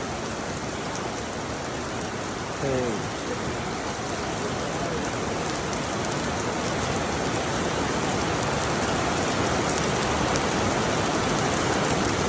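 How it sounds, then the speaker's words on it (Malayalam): Heavy rain pours steadily and loudly throughout in Dammam, Saudi Arabia, a dense continuous roar of drops with a brief faint voice early on. "ഒരു രക്ഷയില്ലാത്ത മഴ."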